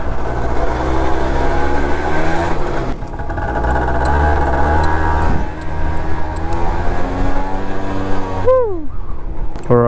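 A Yamaha BWS 100 scooter fitted with a Malossi CVT revs steadily up close with a buzzing, droning two-stroke tone, then the pitch sweeps sharply up and drops away near the end as it accelerates.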